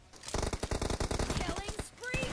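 Gunfire in PUBG rattles off in rapid bursts of sharp close shots that fill most of the moment, with brief voice sounds toward the end.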